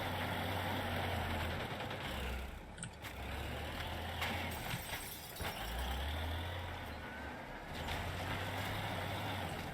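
A vehicle engine in the game Teardown drones and revs steadily while driving against a wall, with low rumbling surges, brief dips and a sharp knock partway through, loud and close with no talk.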